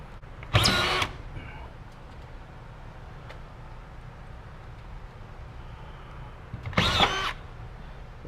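A screw gun drives screws into drywall sheets, two short loud whirring bursts a few seconds apart against a quiet room background.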